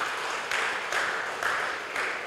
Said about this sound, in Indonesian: Tepuk tangan dulu dong buat Tuhan